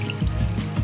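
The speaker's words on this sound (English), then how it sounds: "So the water flows from all the way up the top of the building to here." Water in Minecraft flows down from the top of a building in a brief, soft, bubbling trickle with gentle low gurgles.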